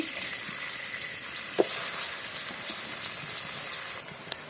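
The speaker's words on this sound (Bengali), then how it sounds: "পেঁয়াজ হালকা ভাজা হয়ে গেছে" Chopped onion frying in oil in a kadai for a chotpote street-food recipe, giving a steady, close hiss and sizzle with a few small sharp pops.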